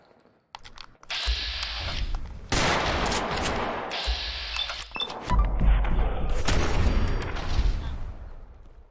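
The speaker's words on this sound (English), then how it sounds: "Gotta love shotgun knockback" Shotgun blasts from Fallout 4 gameplay, several loud booming shots in quick succession with thick low-end thumps and ringing tails, dense and close, with brief quieter gaps between bursts.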